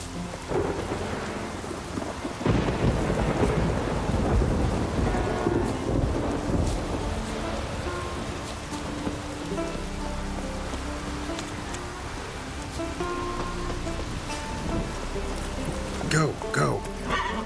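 Steady rain pours with deep rolling thunder in The Witcher 3, a continuous wet hiss with low rumbles, while someone talks over it throughout.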